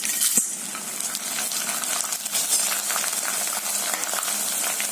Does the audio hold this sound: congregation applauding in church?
no